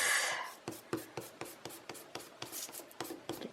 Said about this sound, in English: Let me erase my pencil bits.